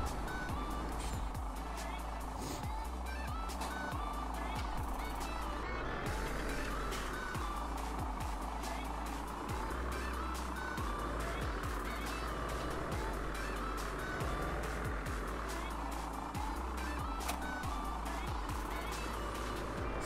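A truck drives in Landwirtschafts-Simulator 17 with a steady engine drone and rolling road noise throughout, rising and falling slightly in pitch, while a voice talks over it.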